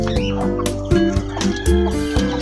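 Crossbred chickens, native stock mixed with red junglefowl, cluck and chirp close by in a loud, busy cluster of repeated calls.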